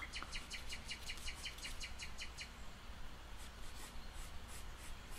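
Small birds chirp in quick repeated bursts of high tweets, first in a rapid run and then again after a short pause, over a soft continuous scratching like pencil on paper.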